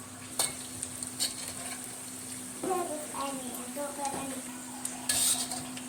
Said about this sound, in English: Fry until they get golden brown.